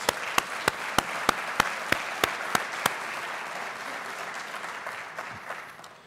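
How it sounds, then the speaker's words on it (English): Applause at the Walpole town meeting: a quick round of clapping from the crowd with a string of sharp, evenly spaced individual claps near the start, thinning and fading out after a few seconds. "A quick round of applause for those folks in their new positions."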